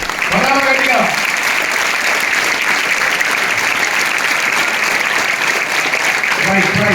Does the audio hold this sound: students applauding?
yes